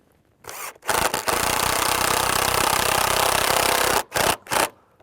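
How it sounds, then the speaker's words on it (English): A power drill drives screws through a gate hinge into timber, a loud sustained whirring burst of about three seconds followed by two short bursts. "I'm then going to screw off the top hinge."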